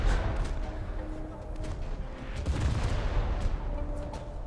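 Rapid naval gunfire from the Fante-class destroyer RN Geniere in a video game, a dense continuous rattle of shots with booms layered over low ambient rumble, steady and loud throughout.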